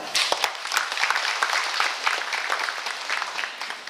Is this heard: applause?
yes